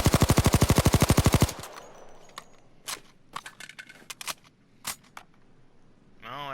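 HK MP5 Compact submachine gun firing full auto in Payday 2, a fast, loud, steady burst of about a second and a half, then scattered single clicks and clatter with a brief whooshing sound at the end.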